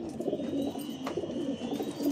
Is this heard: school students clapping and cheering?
no